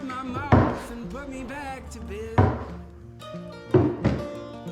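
An IMS aftermarket fuel tank is set down onto an RS500 dirt bike in a workshop, giving a few loud, hollow thunks spaced across a few seconds, with a speaking voice between the impacts.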